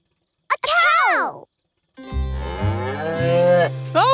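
A cartoon cow moos twice, loud and close, with long drawn-out bellowing calls separated by a short pause and another call starting at the end.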